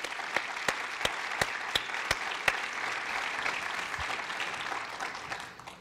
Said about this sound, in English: How about a round of applause for our principals here?